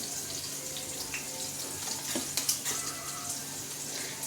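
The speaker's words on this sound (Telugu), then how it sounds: "ఇట్లా స్ట్రెయిన్ అవుతుంది, ఆ వాటర్ మొత్తం కిందికి వెళ్ళిపోతుంది." Water pouring off boiled Maggi noodles in a strainer, a continuous close splashing trickle with a few brief louder splatters partway through, no talk.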